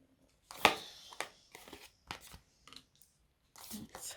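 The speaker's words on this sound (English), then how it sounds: "I'm just shuffling your deck" Tarot cards are shuffled close up in a short series of quick, soft riffling and slapping bursts separated by brief pauses.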